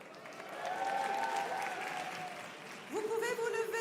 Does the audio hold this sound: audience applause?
yes